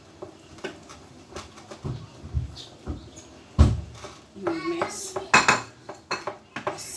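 A utensil stirs okpa batter in a bowl, giving close, irregular clinks and scrapes with soft sloshing and a few sharper knocks against the bowl's sides.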